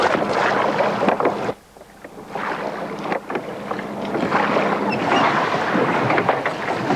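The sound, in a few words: ancient-style oar and sail galley at sea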